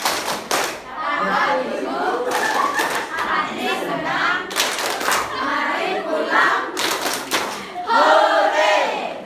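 A class of children claps and chants together in the rhythmic Tepuk Pulang going-home clap, sharp hand claps punctuating loud voices, fairly close and energetic throughout.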